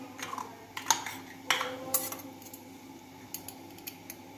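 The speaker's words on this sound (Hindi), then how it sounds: "सबसे पहले हमने अंडों को फेंटना है" Eggs being whisked by hand in a bowl, with sharp utensil clinks and scrapes against the dish in quick, uneven bursts, close by with no talking.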